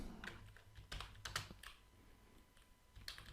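Typing on a computer keyboard while entering values in Maya 3D software, with irregular quiet key clicks, a few tight bursts of several strokes and pauses between them, close and alone.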